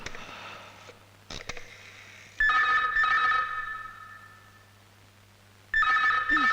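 A telephone rings in a Hindi drama scene, with two bursts of electronic ringing separated by a quieter gap and faint background sounds in between.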